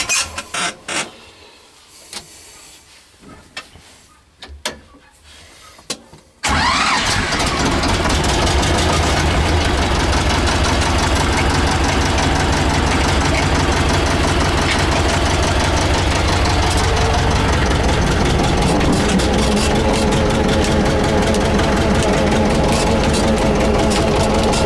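A farm vehicle's engine on a potato farm turns over and catches after a few quiet seconds, then idles loudly and steadily with a knocking, rattling drone that carries on without a break, close by and with no talking.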